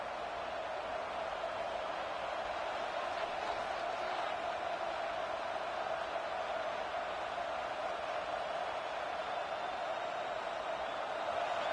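A football stadium crowd roars for the home defense, trying to get a stop in the red zone. It is a steady, loud wash of cheering across the whole stretch.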